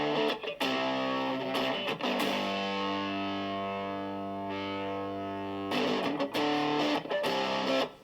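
Electric guitar played through a Turbo Rat distortion pedal, with gritty distorted chords struck in bursts, a long sustained ringing chord in the middle, then more choppy strummed hits.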